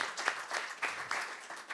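A studio audience applauds on a Slovak talk show, a short, fairly soft patter of clapping with no talk over it.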